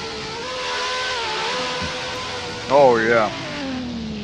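A car with an RB engine at a drift battle event, revving with a droning, rising and falling engine pitch under crowd noise; a brief excited voice calls out near the end.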